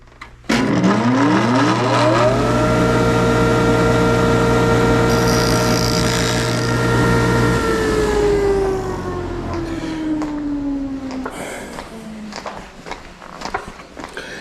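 A power grinder spins up and grinds the locator button off an aftermarket Argo ATV bearing, a loud steady high whine that winds down slowly after several seconds, followed by quieter handling noises.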